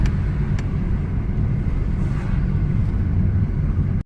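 A Ford Fiesta with a Durashift gearbox, just repaired and bled, drives along with a steady low engine and road rumble heard from inside the cabin, mixed with some wind noise.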